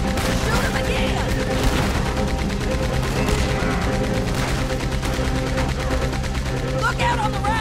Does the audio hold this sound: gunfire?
yes